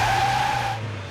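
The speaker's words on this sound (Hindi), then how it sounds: "लगता है गाड़ी फंस गई है।" A car stuck in a forest, wheels spinning and skidding: a short, loud tire squeal with strained engine drone that holds steady, then fades slightly at the end, with no talking.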